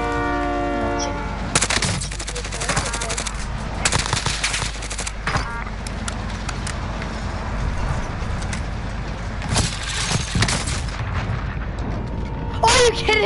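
A train passing in a Call of Duty multiplayer match, loud rumbling rail noise and a blaring horn mixed with bursts of gunfire and game effects, with a player talking over it.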